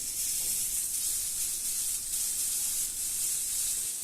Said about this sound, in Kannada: ನಾವು ತವನ ಚೆನ್ನಾಗಿ ಬಿಸಿ ಆದಮೇಲೆ ನಾವು ಖಾರ ಹಚ್ಚಿರುವಂಥನ್ನ ಮೀನನ್ನ ಸೇರಿಸ್ಕೊತಾ ಇದ್ದೀನಿ